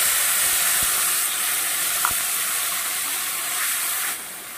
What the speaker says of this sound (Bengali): এবার আমি যে মশলাটা পিষে রেখেছিলাম ওটা দিয়ে দেব